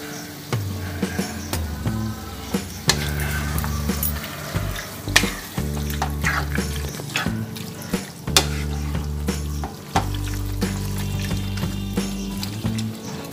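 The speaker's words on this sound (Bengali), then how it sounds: "এবার আমি এটাকে বেশ খানিকক্ষণ কষাবো।" Taro stem curry with milk stir-cooking in a pan: a loud, continuous sizzle broken by frequent sharp clinks and scrapes of the spoon against the pan, with no talking.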